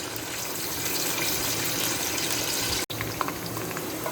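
Chopped onion frying in about half a cup of hot oil in a pot, a steady broadband sizzle and bubbling that holds at an even level throughout, broken by one very brief dropout near the end.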